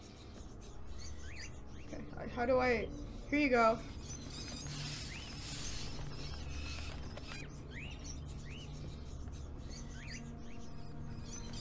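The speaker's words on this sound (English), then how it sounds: "Let's feed some birds." Birds chirp while being fed in Fahrenheit: Indigo Prophecy Remastered, bursts of rapid high tweeting around the second and third seconds, then scattered faint chirps over a low hum, with people speaking briefly.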